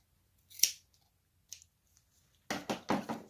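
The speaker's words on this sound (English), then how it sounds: "you're going to take the scissors and cut off any excess" Scissors give one sharp, close snip as they trim excess string from a small knotted button ornament, then a few faint clicks follow. Quiet handling noises come after, in an otherwise silent room.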